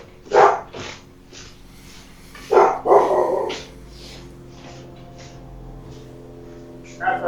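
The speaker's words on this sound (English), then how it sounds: "my dog is barking outside" A dog barks a few times in short bursts, somewhat muffled as if from outdoors, with quiet pauses between the barks.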